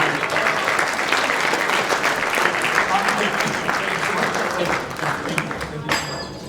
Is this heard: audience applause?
yes